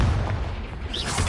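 A Confringo fire spell bursts in Hogwarts Legacy, a single rumbling boom with a crackling tail, loud and close, no voices.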